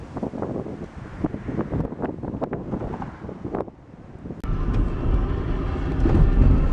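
Steady road rumble and wind buffeting on a compact camera's built-in microphone while a car is driven; the roar is continuous and grows louder and fuller partway through, with no talking.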